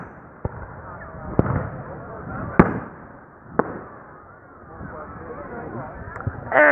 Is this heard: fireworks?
yes